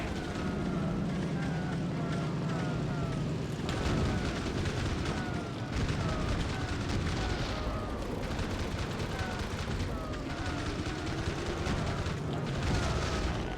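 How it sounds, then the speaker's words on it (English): Anti-aircraft flak explosions from the World War II video game Heroes of the Pacific during the Battle of Leyte Gulf, as continuous booms and gunfire over steady engine drone, with shells whistling down and a voice talking through it. "Watch out for that flak."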